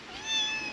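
One faint, thin kitten meow rises and falls in under a second, soft and somewhat distant against quiet background.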